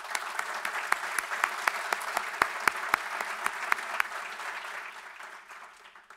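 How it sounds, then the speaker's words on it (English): Conference audience at Capitol Hill Ocean Week applauding the event sponsors, a moderate room-wide clapping with a few sharp individual claps, fading gradually toward the end. "A round of applause"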